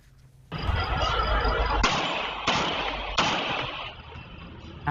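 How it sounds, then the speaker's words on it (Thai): Three loud, sharp gunshots recorded on CCTV at a barbershop fire in quick succession over a steady rumbling background, spaced roughly a second or so apart. "ได้ยินเสียงปืนชุดแรกดังขึ้นก่อน 3 นัดฮะ"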